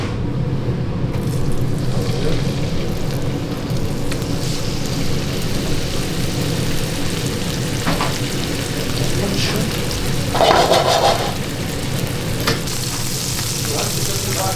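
Butterfly-cut meat sizzles in a pan, a dense continuous frying hiss with occasional sharper crackles and a brief louder burst near the end, close and steady.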